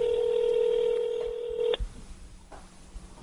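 A phone number is dialed on a telephone, its keypad tones sounding as a quick run of close, clear beeps that stop abruptly, followed by a faint, quiet line.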